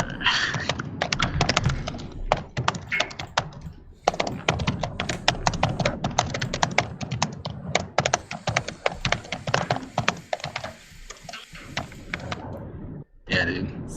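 Fingers type on a computer keyboard in fast, uneven runs of clicking keystrokes, close and clear, pausing briefly and then resuming.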